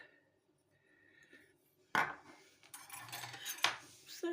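A fork scrapes and clinks against a bowl while salad dressed with flaxseed is mixed, starting with faint quiet stirring and then turning to louder, repeated metallic taps and scrapes.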